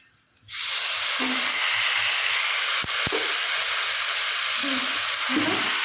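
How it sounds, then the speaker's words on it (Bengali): Spice paste (masala) sizzling as it is sautéed in a pan, a steady, near, hissing fry that starts abruptly and continues, with faint voice-like sounds underneath. "মশলাটা আমার কষানো হয়ে এসছে।"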